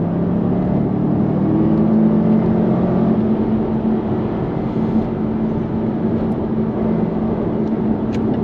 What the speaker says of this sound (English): Really good kick down. Three, two, one, kick down.